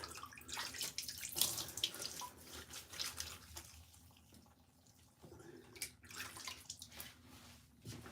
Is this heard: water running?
yes